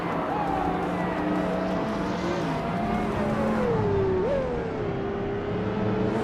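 A 2014 Koenigsegg One:1 and the rest of the field in a racing video game at Oran Park, engines droning steadily at the start with pitch that rises, dips and jumps as revs change, loud and continuous.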